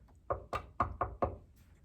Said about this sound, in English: Sammy knocked on Sophie's door.